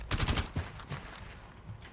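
Rapid automatic gunfire in Rainbow Six Siege, a tight burst of loud, close shots at the start followed by scattered single shots and fainter rattles fading away.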